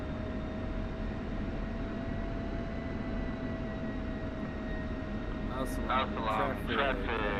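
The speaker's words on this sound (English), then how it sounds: "Texas 11 taxiing out to runway 15." An F-16 Viper jet taxiing out to the runway in DCS World, a steady, droning engine whine held evenly throughout, with a voice briefly audible near the end.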